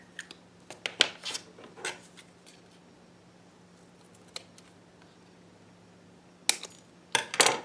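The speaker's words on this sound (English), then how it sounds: "I'm just going to cut this as close to the edge as possible" Scissors snip close along the edge of a paper adapter for a disc-bound bullet journal, a quick cluster of crisp cuts early on, then a pause and a few more sharp snips near the end, close and fairly quiet.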